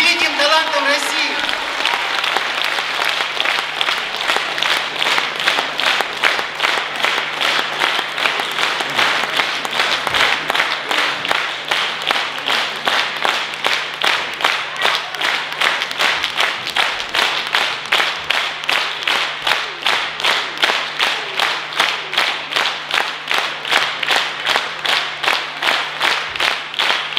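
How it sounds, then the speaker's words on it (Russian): Loud applause from a concert audience honouring Russian performers, at first scattered and then settling into rhythmic unison clapping, a steady beat of claps repeating for nearly half a minute. "еще раз громкие аплодисменты"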